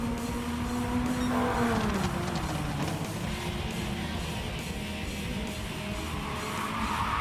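Tire screech from a car drifting in the racing game Gran Turismo 7, a sustained squealing tone over continuous engine drone that bends downward, steady and fairly loud throughout.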